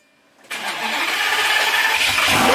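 A Lamborghini Gallardo (pre-LP) engine cranks and fires after half a second of silence, settling into a loud, steady running roar close by that holds through the rest of the clip.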